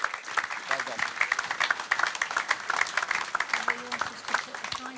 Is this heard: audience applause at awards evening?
yes